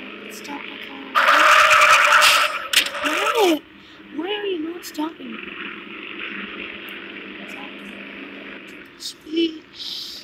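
Video game car skidding and crashing: a loud burst of crash noise and tire squeal, followed by short squealing chirps and a lingering engine hum, with a voice talking over parts.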